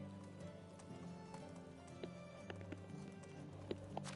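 Horse hooves clip-clop at a steady trot in the Medieval Dynasty video game, rhythmic and fairly faint over a low droning background.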